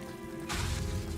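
A Bombarda spell blast in Hogwarts Legacy, a sudden broad burst that erupts midway and rumbles on for the rest of the moment after a quieter lead-in.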